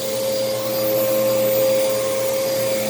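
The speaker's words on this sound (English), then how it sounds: "Just trying to vacuum." A Moosoo U1400-A vacuum cleaner running in a living room, a loud, close, continuous motor whine with a strong steady tone, alone without talk.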